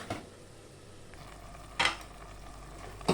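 Chicken and mushroom pieces stirred for soup in a pot, with soft scraping under a faint simmer, broken by a few brief, louder clatters of a spoon against the pot.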